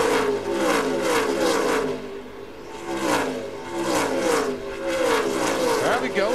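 NASCAR stock cars race three wide at Pocono in the 2006 Pennsylvania 500, loud engine roars surging past in repeated waves, each car's pitch dropping as it passes, with a track announcer talking underneath.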